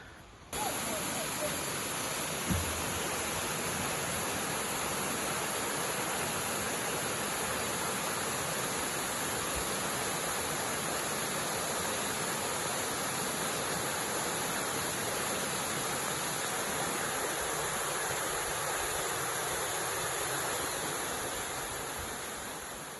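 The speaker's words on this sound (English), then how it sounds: "The waterfall is beautiful" The waterfall at Natural Falls State Park in Oklahoma roars as a constant broadband wash of falling water, steady and enveloping for the whole stretch with no voices heard.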